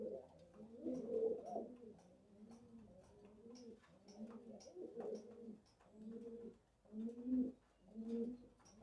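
Several pigeons coo repeatedly in a loft, soft low rolling calls overlapping in an irregular rhythm, fairly close and quiet, with faint higher chirps in the background.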